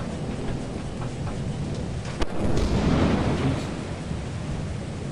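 Thunderstorm in the video game Lethal Company: dense, steady rain roar with a sharp crack followed by a deep rolling rumble of thunder, loud and alone without talk.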